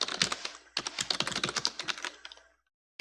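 Fast typing on a computer keyboard, with brisk clusters of close, crisp key clicks, a brief pause, then more clicking until it stops near the end.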